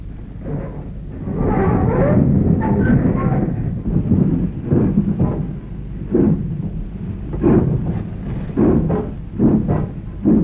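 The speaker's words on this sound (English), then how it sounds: "Our train is passing through the yard to where it will be broken up." A wartime steam freight train rolls through a marshalling yard toward scrapping, a heavy low rumble with rhythmic chuffing bursts and clanks growing more distinct as it passes.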